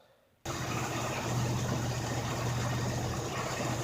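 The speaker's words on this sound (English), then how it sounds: "we'll show you what we got running at idle" A car engine idles after a brief quiet start, with a steady low hum and a faint tonal drone that holds evenly at moderate level throughout, no talk.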